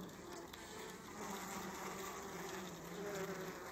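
Honeybees buzz steadily and densely around a hive frame during a brood check on swarms, a continuous close, moderately loud drone with no pauses.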